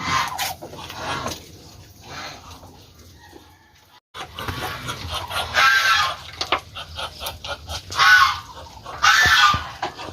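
Muscovy ducks in a breeding pen give off scattered honks and hoarse calls, quiet at first and then louder in several overlapping bursts close by.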